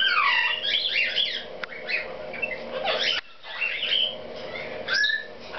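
Female yellow-naped Amazon parrot, a timid, cage-territorial three-year-old, squawking and chattering in loud harsh bursts, near and continuous, with a brief pause midway.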